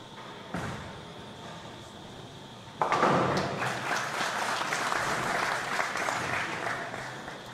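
A crowd of seniors and younger fans at the 2016 PBA50 World Championship stepladder bowling finals, Treasure Island Resort & Casino, breaks into loud sustained applause and cheering after a thud, with a commentator talking underneath.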